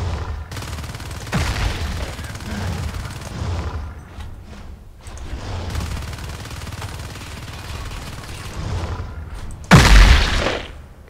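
A bot in a video game fires rapid bursts of gunfire, long rattling volleys that fade and return. A loud blast comes near the end.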